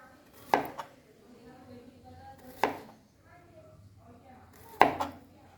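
A knife chops raw banana for chips with three firm, evenly spaced thuds on a cutting surface, close by and moderately loud.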